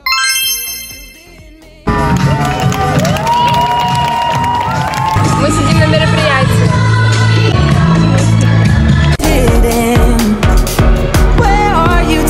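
Children at a summer camp quiz cheering and clapping for the winning team, loud and lively crowd noise mixed with bright music and chimes after a short musical intro.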